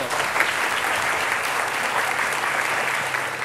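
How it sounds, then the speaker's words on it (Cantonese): Audience applause at a Hong Kong youth association dialogue event with the Legislative Council president, steady dense clapping filling the room throughout without a break. "我哋用掌聲再一次多謝"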